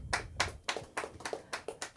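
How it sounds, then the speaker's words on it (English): Sparse, scattered claps at a comedy show, about eight distinct hand claps in an uneven rhythm, like a few people clapping rather than a full audience. "clap if you are a superhero fan"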